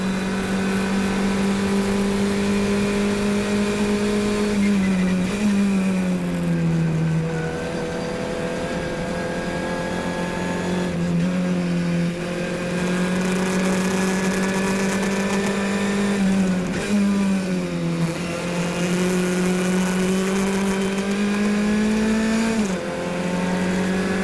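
A Formula 1600 open-wheel race car screams around the Mont Tremblant circuit, its engine loud and close, holding a steady high drone that dips and climbs again through repeated gear changes and braking zones.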